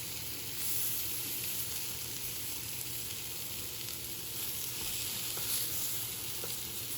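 Chiles de arbol frying in a pan: a steady, close hiss and sizzle of hot oil that holds at an even level throughout, with no talking over it.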